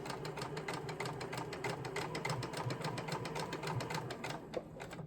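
A sewing machine stitches back and forth across fabric, its needle hammering in a fast, even rhythm of close, steady clatter that runs continuously before stopping near the end.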